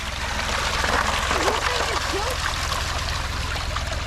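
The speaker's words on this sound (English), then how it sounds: "Trying to let some water out without letting all the dirt out" Water trickling and gurgling as it drains from a tank full of dirt and rocks into holes, a steady splashing stream heard close up, with someone talking over it.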